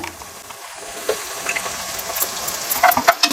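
Curry leaves go into frying Pallipalayam chicken, bringing a soft, crackling sizzle that builds into sharper pops and spatters toward the end, close by and free of talk.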